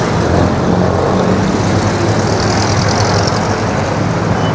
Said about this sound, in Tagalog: Daming truck.